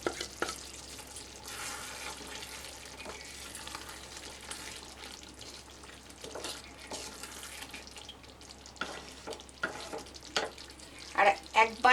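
Shahi garam masala being stirred into a frying paneer gravy, giving a steady low sizzle with wet spoon scrapes and stirring strokes, close and moderate, with a few louder clinks near the end.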